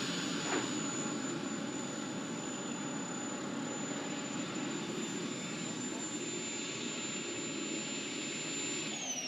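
A jet aircraft with thrust vectoring flying at an air show, a continuous loud engine roar with a steady high whine held throughout, no break.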